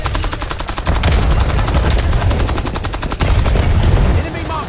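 Rapid automatic gunfire in Call of Duty Black Ops 7 multiplayer hammers out in fast, evenly spaced shots, loud and near, with a short break before more firing and faint game voices underneath.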